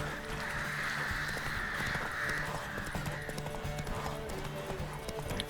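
Horse hooves gallop in The Witcher 3: Wild Hunt, a quick rhythmic clip-clop running throughout at moderate distance, layered with game ambience and music tones.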